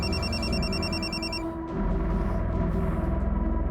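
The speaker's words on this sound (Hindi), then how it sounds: "दीदी का फोन आ रहा है" A telephone rings with a steady repeating electronic trill for about a second and a half, then stops, leaving a dense musical background.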